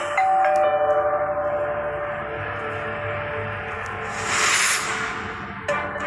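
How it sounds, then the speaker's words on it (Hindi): A doorbell chimes with a sustained ringing tone, followed by a hissing burst and another short electronic tone near the end, with no voices. "अगले ही पल फिर से डोरबेल की आवाज आई।"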